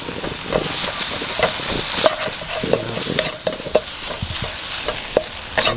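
Tofu being stir-fried in a very hot pan, a steady loud sizzle with sharp spatula scrapes and clacks against the metal at irregular intervals, no voices.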